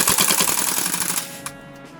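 A King Arms M2 airsoft rifle fires a rapid full-auto burst close by, a dense mechanical rattle of shots for just over a second until the magazine empties, followed by a couple of faint clicks.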